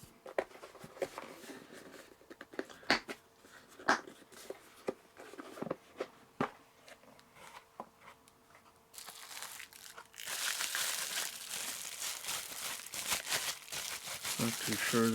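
ABS plastic case of a tactical flashlight kit being opened and unpacked: crinkling packaging, clicks and handling noises, then louder rustling. Someone talks intermittently.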